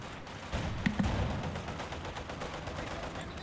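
Tank cannon and infantry gunfire in a World War II real-time strategy game, including a Panther's main gun, sound as a few muffled thumps and bursts over dense, noisy battle ambience.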